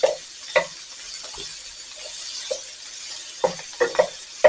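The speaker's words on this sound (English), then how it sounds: "So I'm going to stir fry this a little bit and I'll be back." Sweet onions stir-fry in a pan with a soft background sizzle, punctuated by irregular sharp clinks and scrapes of a utensil against the pan, close and fairly loud, no speech.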